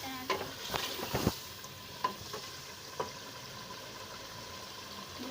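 Chicken meat is stirred and fried in a pan. A spatula scrapes and clatters in quick bursts at first, then gives a few isolated knocks over a soft continuous sizzle, heard close with no talking.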